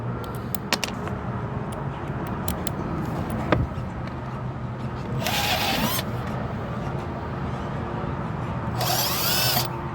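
A power drill bores a starting hole through an FRP panel during water slide repair, the whine surging in two bright bursts after scattered clicks and handling knocks, close and fairly loud with no talking.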